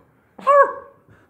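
A person imitates a single dog bark with their voice during a tabletop Dungeons and Dragons session, one loud, drawn-out woof that trails off, close to the microphone with near silence around it.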